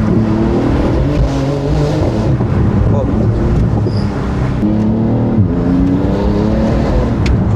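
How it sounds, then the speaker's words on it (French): A car engine revs hard through a loud exhaust, a continuous close roar with rising and falling throttle surges and some wind buffeting the microphone. "T'as vu ce bruit d'échappement que t'as"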